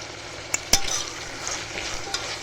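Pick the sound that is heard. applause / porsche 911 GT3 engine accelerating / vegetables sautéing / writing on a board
vegetables sautéing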